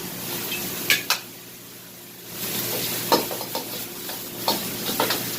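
Shrimp and fresh vegetables stir-fried in a hot pan with a splash of Shaoxing wine, giving a steady sizzle under sharp scrapes and clinks of the spatula against the pan; a quieter lull comes midway before the stirring picks up again.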